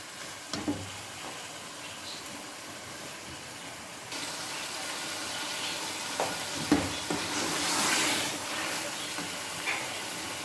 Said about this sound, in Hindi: साथ ही हम आलू डालकर चिकन और आलू को दोनों को अच्छी तरह फ्राई करेंगे